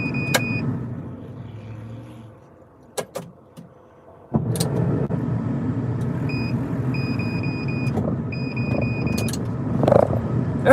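A snow-plowing loader's engine rumbles, dies away to near quiet, then cranks and restarts with a sudden jump back to a steady idle and a few mechanical clunks.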